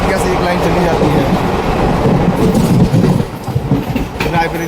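An Indian Railways superfast express runs at about 65 km/h toward Utretia station, with a loud continuous rumble and rhythmic wheel clatter throughout, heard close from on board.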